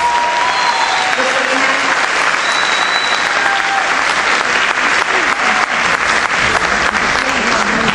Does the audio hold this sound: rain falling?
no